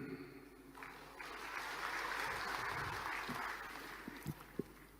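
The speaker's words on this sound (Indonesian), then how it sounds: "Jangan terlalu cepat tepuk tangan." An audience bursts into applause at a government speech, a faint, distant swell of clapping that builds, holds for a few seconds and then fades, with a few sharp claps near the end.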